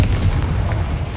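A Confringo blasting spell explodes in the video game Hogwarts Legacy, a loud, dense booming burst that fills the whole moment with rumbling low end and crackle.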